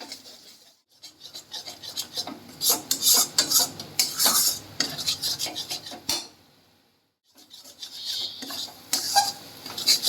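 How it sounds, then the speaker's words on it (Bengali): Spice masala for a duck egg curry is stir-fried in a pan, with repeated scraping and rubbing strokes of a spoon over a faint sizzle, pausing briefly midway before resuming. "এবার পুরো মশলা দেওয়া হয়ে গেছে এবার ভালো করে কষাতে হবে"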